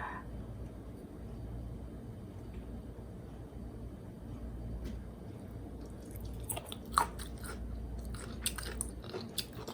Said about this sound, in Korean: 이제 아로니아 부침개가 완성이 됐네요. 한번 맛을 볼까요?